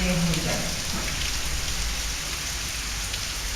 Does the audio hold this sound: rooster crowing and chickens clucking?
no